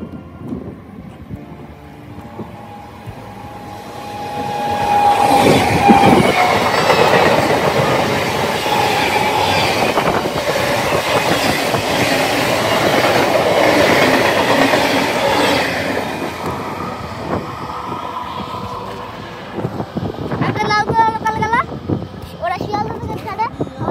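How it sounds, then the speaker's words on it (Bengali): A Krishnanagar local train rumbles past on the rails near Payradanga, swelling into a loud, sustained clatter with wheel squeals, then fading as a voice talks nearby. "তো চলো এখন আমি একটা ট্রেন দেখে নিচ্ছি।"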